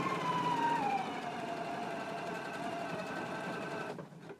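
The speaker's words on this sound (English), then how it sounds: "Take it to the machine and stitch at a 5/8 of an inch seam allowance." Sewing machine stitching a jacket's under-collar seam at a 5/8 inch allowance, running as a steady close whir with a rising then falling tone for about four seconds before stopping abruptly.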